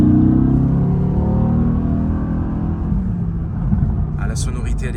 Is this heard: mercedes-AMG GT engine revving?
yes